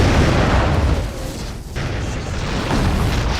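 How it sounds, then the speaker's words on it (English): Film special-effect explosion of a lava bomb striking an RV: a loud, dense, sustained blast roar filling the whole clip, dipping briefly midway before surging again, with no talk. "would hit the backhand and explode and take the RV out"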